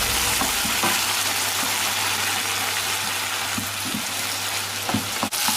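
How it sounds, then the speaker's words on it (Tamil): Vegetables bubbling in water in a pan on the stove, a steady close hiss and simmer with faint stirring scrapes and a brief clatter near the end. "வாட்டர் ஆட் பண்ணிக்கிறேன். வெஜிடபிள்ஸ் நல்லா பாயில் ஆகும்."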